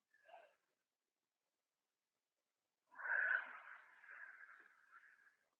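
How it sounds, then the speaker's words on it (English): Slow, deep breathing during neck stretches and a neck massage: one short breath, then after a pause a longer drawn-out exhale, soft and close with no talking. "Nice deep breathing."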